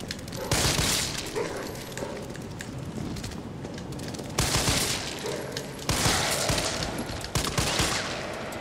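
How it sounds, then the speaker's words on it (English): Gunfire from a weapon in the 2020 Resident Evil 3 remake rattles in loud, dense bursts with heavy booming peaks throughout. "It takes a while for this gun to shoot."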